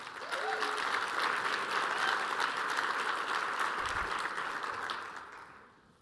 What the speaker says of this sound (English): Please another round of applause for our wonderful leadership team.